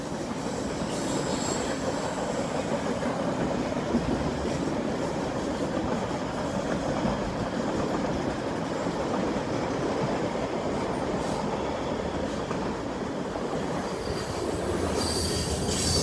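Two BNSF manifest freight trains pass Carkeek Park with a steady, sustained rumble of rolling cars and squealing wheels, broad and unbroken throughout, with no voices.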